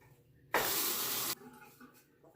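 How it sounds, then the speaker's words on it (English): Tap water briefly gushes to rinse a RazoRock Game Changer safety razor, a loud, close, even hiss lasting under a second, with quiet room sounds before and after. "And now I'm gonna rinse the razor."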